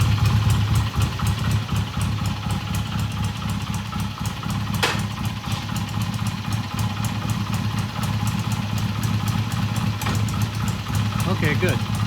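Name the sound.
BSA A65 motorcycle engine idling in gear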